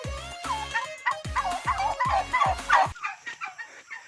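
Turkeys gobble nearby in a burst of rapid, rattling calls, followed by quieter scattered clucks and calls.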